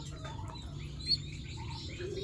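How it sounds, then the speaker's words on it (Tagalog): Three-week-old young pigeons give faint chirps and soft peeping calls over a steady low background hum, close but quiet. "Yung dalawang young birds na yan mga kalapatids ay 3 weeks old pa lamang."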